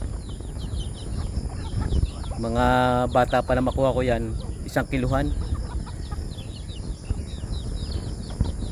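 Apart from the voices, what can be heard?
chickens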